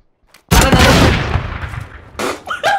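PUBG gunfire: one loud, close shot with a long rumbling tail that fades over about a second and a half, then a quieter follow-up burst.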